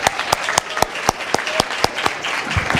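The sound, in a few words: audience applause for the College of Pharmacy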